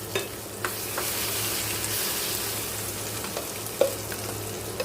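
Ridge gourd peel chutney goes into a hot tempering in a pan and sizzles steadily, with a few sharp taps and scrapes from stirring over the continuous frying hiss.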